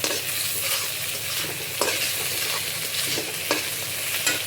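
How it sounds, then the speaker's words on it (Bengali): Crushed garlic and ginger frying in a pan while being stirred, a steady close sizzle with scraping stir strokes at intervals, no talking. "রসুন ছেঁচা দিব, দিয়ে একটু ভেজে নেব।"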